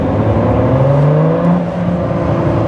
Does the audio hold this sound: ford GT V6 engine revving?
yes